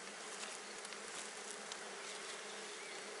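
Honey bees at an apiary hive hum in a dense, steady drone that fills the whole stretch, close and unbroken, with no voices over it.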